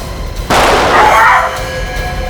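A single sharp, loud gunshot bursts out abruptly and rings for about a second before fading into a steady background hum.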